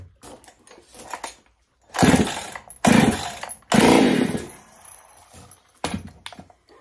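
A ported Husqvarna 385 chainsaw is pull-started several times: sharp ratcheting pulls with sputtering bursts that don't catch, separated by quiet pauses and faint clatter.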